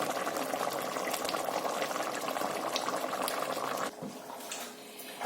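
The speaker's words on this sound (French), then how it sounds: "C'est en train de bien mijoter." A vegetable sauce with carrots and peppers simmers in a pan, giving a dense, continuous bubbling close by that softens noticeably near the end.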